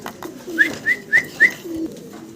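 Fancy pigeons kept for sale coo nearby in four short, evenly spaced calls against a quiet background, with no voices.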